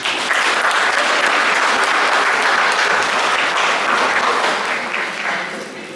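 Concert audience in Vilnius bursts into loud, sustained applause, dense clapping that holds steady and then tapers slightly toward the end.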